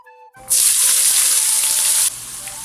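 Chopped onion for chicken chukka lands in hot oil with a sudden loud hiss. The sizzle holds strong for a moment, then drops to a quieter, steady frying sound.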